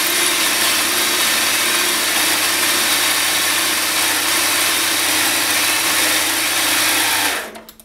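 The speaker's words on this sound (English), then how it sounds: "as you can see, I already overloaded my micro lathe" A micro lathe drills a hole, its small motor giving a steady, loud mechanical whine with a grinding edge that runs unbroken before spinning down at the end.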